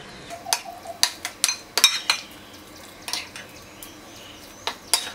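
Rice flour for puttu is stirred with boiled water in a bowl, giving a series of sharp, close clinks and scrapes of a spoon against the bowl in an irregular rhythm, with no talking.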